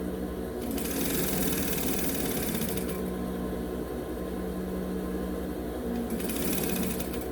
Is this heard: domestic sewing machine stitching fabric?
yes